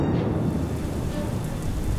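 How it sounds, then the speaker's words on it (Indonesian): Sudden heavy rain pours down in a dense, unbroken roar, loud and close, with a low rumble beneath the constant hiss of downpour. "Dan penderitaan Sumi ditambah dengan turunnya hujan dengan tiba-tiba."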